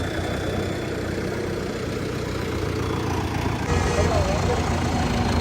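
A Sonalika RX 60 tractor engine idles steadily with a constant low rumble throughout, with no speech.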